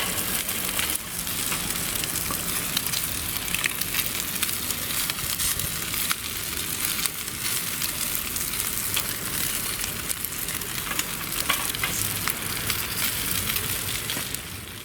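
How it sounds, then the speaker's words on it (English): Onions fry outdoors in a pan on a titanium camp stove, giving a steady, close hiss of sizzling with faint scraping and stirring mixed in as a spatula turns them. "let's get my spatula and just turn them onions round a bit"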